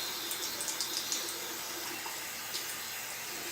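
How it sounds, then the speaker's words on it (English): A makeup brush swished and washed in soapy water in a bowl gives soft, close watery sloshing with a few small splashy drips scattered through, fairly quiet and with no voices. "Just put it in the bowl, get it all soapy, and then just go onto the mat and brush it off."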